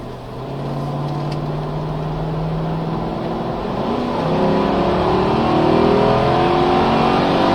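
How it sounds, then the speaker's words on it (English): A 2001 Mercedes ML55 AMG SUV engine accelerating hard, its loud, steady roar climbing in pitch as the revs build, heard from inside the vehicle with no talk. "let's have a look how the acceleration is"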